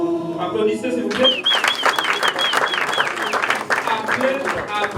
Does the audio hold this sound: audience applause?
yes